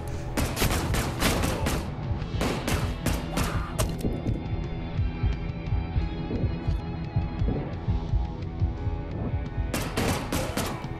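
Rapid bursts of gunfire from a Peaky Blinders VR shooter game, dense volleys of shots repeating across the whole stretch with short gaps, loud and close, with no talking.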